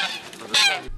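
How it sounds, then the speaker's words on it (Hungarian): Geese driven by children with long sticks along the wine-press house row in Dunakömlőd honk loudly, a close, rising burst of calls that breaks off abruptly. "Hosszú botokkal a kezükben terelgetik a gyerekek a libákat"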